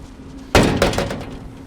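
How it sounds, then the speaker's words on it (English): A metal grain bin door bangs open with a loud thunk while the aeration fan runs, followed by a second knock and a rushing whoosh of air that slowly fades. "let's see what happens when you open the door with the fan on"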